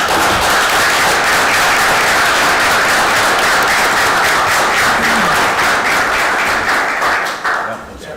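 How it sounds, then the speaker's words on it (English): An audience applauds at a local borough council candidate forum, with dense, steady clapping from a room full of people throughout, fading slightly at the end. "please join me in applause for all involved"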